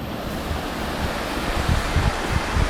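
Steady broadband rush of a stream flowing near Wang Khiao waterfall in Thailand, close and continuous, with a low churning rumble throughout and no voices.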